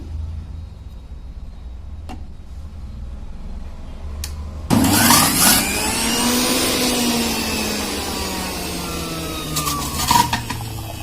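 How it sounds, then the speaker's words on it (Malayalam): An electric juicer kicks in after a quiet stretch and grinds unpeeled orange pieces with the seeds left in, its loud motor whine sagging and straining under the load, then running on steadily to the end. "അപ്പോൾ നമുക്ക് ഇതിലൊന്ന് ജ്യൂസ് അടിച്ച് നോക്കാം ഞാനിപ്പോൾ ഇവിടെ ഓറഞ്ച് ജ്യൂസാണ് അടിക്കാൻ പോണത്"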